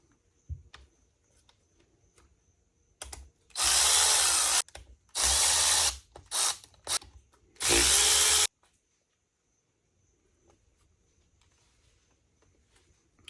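Loud bursts of a power tool, likely an impact driver or drill, unfastening the fuel and oil pump assembly on a 150 Mercury outboard engine; four or so separate runs of whirring, with quieter handling noises between them and near-silence afterward.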